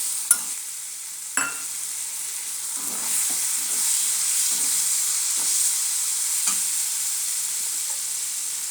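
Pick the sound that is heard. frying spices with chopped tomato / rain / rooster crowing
frying spices with chopped tomato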